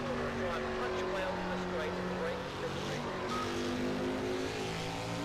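Late-1980s NASCAR stock cars race at Monza in the Project CARS video game, a steady, dense engine drone holding throughout while someone talks over it.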